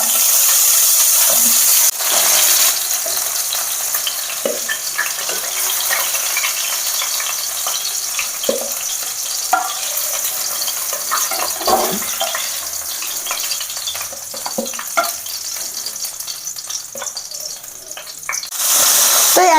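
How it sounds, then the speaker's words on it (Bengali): Chicken pieces frying in a pan for a Bengali dahi chicken, a loud continuous oil sizzle with scattered crackles and pops, heard up close throughout. "একে একে সব চিকেনগুলো আমি এভাবে ভেজে নেবো দুপাশ"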